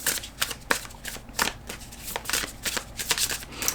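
A deck of tarot cards being shuffled up close: rapid crisp riffling and slapping bursts that repeat in quick irregular runs, with no talking.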